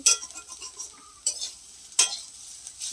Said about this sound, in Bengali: আলু ভাজা হচ্ছে দেখো